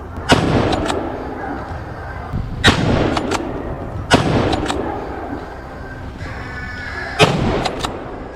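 Gunshots ring out during an outdoor wild boar hunt, four or five loud sharp cracks spaced a couple of seconds apart, each trailing off in a long echo across open ground, with faint background noise between shots.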